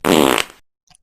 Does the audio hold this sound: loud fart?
yes